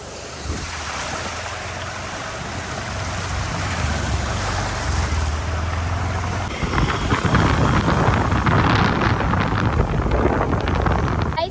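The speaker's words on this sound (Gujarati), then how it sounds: "એટલું બધું પાણી ચાલુ છે વરસાદનું" Heavy rushing rainwater roars steadily through a street drain channel, growing louder and rougher in the second half as the flow surges close by.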